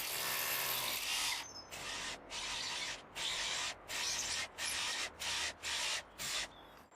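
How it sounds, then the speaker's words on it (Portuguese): A larger drill bit widens a row of holes in a cat playground build, running as a loud whine broken by short pauses into about eight bursts after a longer opening run. "Depois, usei uma broca maior para alargar os furos."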